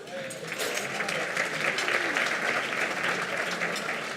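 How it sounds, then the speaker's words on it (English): Audience applause at a healthcare foundation's 2019 annual meeting, a dense, steady wash of many hands clapping in a large room, moderately loud and sustained, with a faint voice under it. "I'm going to ask that you hold your applause because the list is long."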